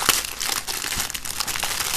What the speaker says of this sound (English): you hear all those wonderful crinkles that you're opening up something brand new